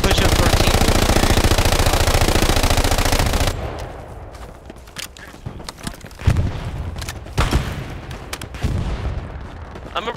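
Sustained, rapid machine gun fire rattles in a tight, unbroken stream in Hell Let Loose, then stops abruptly and gives way to scattered, irregular shots and thumps in the distance.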